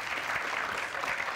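A studio audience claps at a Greek Wheel of Fortune taping, a brief burst of even, dense applause heard close and steady throughout.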